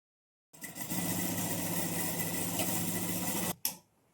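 Electric sewing machine stitching a kurti runs steadily at close range for about three seconds with a fast, even motor whir and rapid needle chatter, then stops abruptly with a short clunk.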